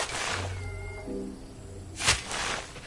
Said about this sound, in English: Like there's a cat somewhere.